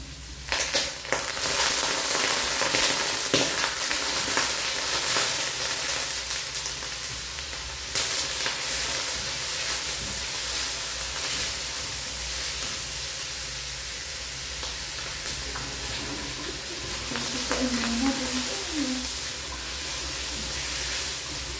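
Pork sizzling and frying in a pan for Filipino adobo, a steady crackling hiss throughout with occasional pops and stirring scrapes, no talking.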